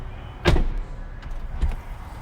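The rear door of a 2011 Rolls-Royce Ghost closes with one solid, close thump, followed by a softer second knock a moment later.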